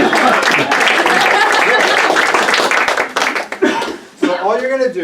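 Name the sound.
audience applause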